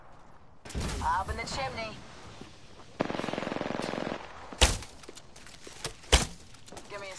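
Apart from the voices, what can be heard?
gunfire in a video game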